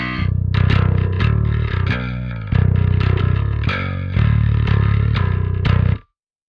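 Distorted electric guitar through a Parallax X with the mids brought up, chunky palm-muted riffs in rhythmic bursts with short pauses, loud and close, ending abruptly.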